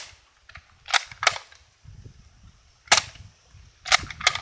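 A Nerf N-Strike Elite Strongarm blaster fires six sharp snapping shots in uneven pairs, each with a crisp pop and brief hiss, close and clear over low handling noise.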